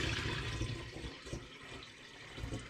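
Homemade carrot and orange wine is poured in a steady stream into a glass demijohn, giving a continuous gurgling, splashing rush of liquid at close range with no talking.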